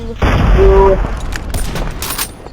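Rapid gunfire in a competitive first-person shooter game, a loud close burst of shots followed by scattered softer shots and clatter fading out.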